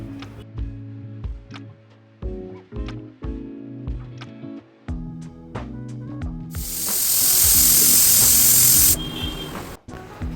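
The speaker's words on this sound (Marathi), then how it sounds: "3 ते 4 साधारण आपल्याला कुकरच्या शिट्या करून घ्यायच्या आहेत" Pressure cooker whistling while drumstick soup cooks, one loud sustained hiss of roughly two seconds rising over background music, with no voices.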